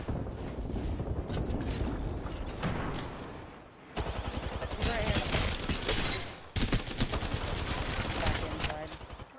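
Rapid bursts of video-game gunfire crackle loud and dense throughout a battle-royale match, automatic fire and heavy shots packed together with brief lulls and sharp restarts, layered under players chatting over the action.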